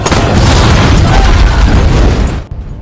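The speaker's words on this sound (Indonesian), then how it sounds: "Saat Ryan berada di dekat sebuah mobil, Walker meledakkannya." A car blowing up in a violent explosion, a loud broadband roaring blast that holds for over two seconds before cutting off abruptly into near silence.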